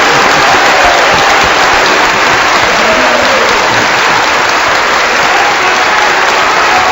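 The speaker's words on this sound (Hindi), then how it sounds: "तालियां बजाइए जरा गर्म जोर से गुरुदेव के सम्मान में।" Sustained audience applause at a devotional satsang gathering in Mumbai, honouring the guru; dense, steady clapping from a large crowd filling the whole stretch without pause.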